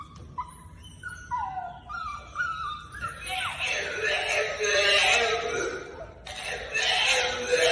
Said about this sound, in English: one dog is Yeah. whining.